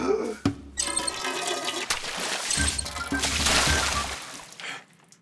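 A sleeping person is doused with a sudden dump of water in a Korean film scene, a loud splashing gush and pouring spill with clattering bits, followed by dripping and a brief tail.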